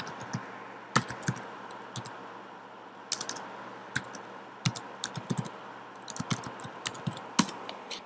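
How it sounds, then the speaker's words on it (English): Typing on a computer keyboard while entering a web address into an Excel 2010 cell: irregular bursts of close, crisp key clicks with short pauses between, no talking. "you start with a single quote and then type the address."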